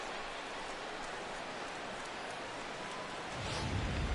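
Steady, faint hiss of rain falling during a baseball game in MLB The Show 2017, an even wash of drops throughout with a slight swell near the end.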